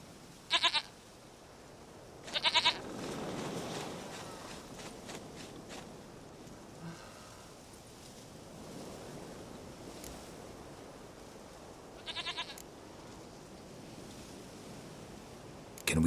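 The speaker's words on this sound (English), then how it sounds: "Goat of mine, dearest, sweetest goat." Goat bleats in The Witcher 3, three short bursts spaced over several seconds, fairly loud against a soft ambient background with a low rumbling bed.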